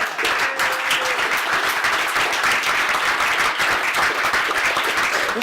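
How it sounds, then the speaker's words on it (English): A crowd of about 100 people applauds loudly and continuously, a dense wash of clapping with no pauses throughout. "100 people applauding loudly."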